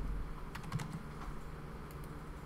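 Soft, quiet keystrokes on a computer keyboard in a short irregular burst, with a few faint clicks during a software tutorial and no talk.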